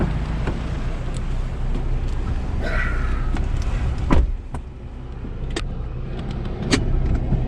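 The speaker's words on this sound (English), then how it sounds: "Driving a car in Honduras." A car is driven along a road in Honduras, giving a steady close engine and road rumble with a few knocks and bumps, no talking.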